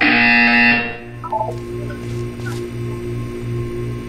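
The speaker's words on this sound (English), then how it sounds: "You will hear a buzzer." A loud electronic buzzer from the Portal 2 video game, a harsh sustained tone lasting under a second, followed by a quiet test-chamber hum that pulses rhythmically.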